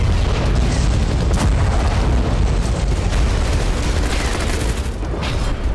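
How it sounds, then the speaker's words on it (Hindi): A FAB-1500 bomb explodes on the Kurakhove front in war footage. The blast is a heavy, continuous roar and rumble that stays loud and sustained for the whole few seconds. "रूसी सेना ने कुरोखोवो के मोर्चे पर फैब 1500 बम से हमला किया।"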